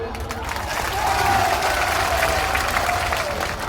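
A crowd at an AIMIM political rally in India claps steadily, with some cheering. The sustained applause is loud and dense, and a voice rises faintly through it.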